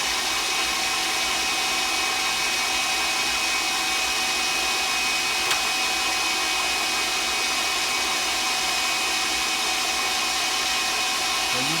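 Egg whites whipped stiff for a lemon souffle with an electric mixer, giving a steady, loud, unbroken whirring drone that holds for about twelve seconds with no one speaking.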